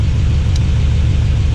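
A rebuilt Ford 5.4 3V V8 engine runs at a steady idle with a slight exhaust tick, giving a continuous, close, loud low rumble and whir with no voices.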